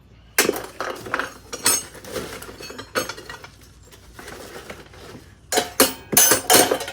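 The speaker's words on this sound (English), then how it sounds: "I have a full set of wrenches here." Fire-damaged metal wrenches and sockets recovered from ashes clink and rattle as they are handled, with irregular bursts of bright metallic knocks close by and quieter gaps between them.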